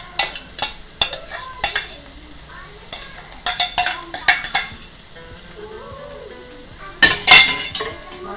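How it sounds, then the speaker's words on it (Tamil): Basmati rice poured into a pot and stirred, a series of sharp clinks and scrapes of a utensil against metal in uneven bursts, with faint speech in between. "ஸோ இந்த பாஸ்மதி ரைஸை இப்போ போட்டுக்கிறேன்"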